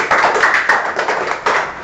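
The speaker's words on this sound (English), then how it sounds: "Give me a clap down." Students in a class for a share capital lesson give a short burst of clapping. A few loud, close claps with uneven spacing fall under a faint background hum, and no one speaks.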